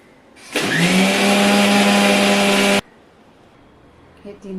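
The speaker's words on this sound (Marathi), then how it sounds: "ते पण आता मिक्सरच्या भांड्यात टाकून आपण फिरवून घेऊया" A mixer grinder jar churns a bowl of pure ghee for a sponge cake batter: a loud, steady motor whine that kicks in abruptly, runs about two seconds and cuts off sharply, leaving quiet room noise.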